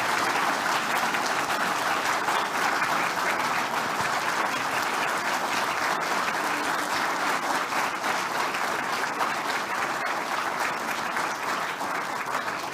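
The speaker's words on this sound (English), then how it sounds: "Keep that applause going, ladies and gentlemen" Steady, dense applause from an audience at the 2022 Queensland Australian of the Year Awards ceremony, continuous and even for the whole stretch with no voices.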